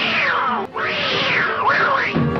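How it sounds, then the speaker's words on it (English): Cartoon cat Tom from Tom and Jerry lets out a realistic, drawn-out yowling wail that rises and falls in pitch, loud and close, with a brief break partway through. "The only thing you think about when you hear that sound is a real-life cat getting hurt."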